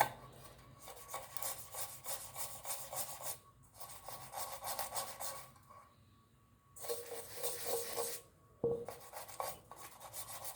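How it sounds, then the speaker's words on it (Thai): A toothbrush scrubs the inside of a curry pot, its bristles laid flat against the metal. The rasping strokes come in close, steady stretches separated by short pauses, with no talking. "เวลาขัดพยายามนอน ตัวแปรงสีฟันนะครับ เพราะว่า ขนเขาจะได้เข้าไปข้างในนี้นะครับทำความสะอาดได้นะครับ"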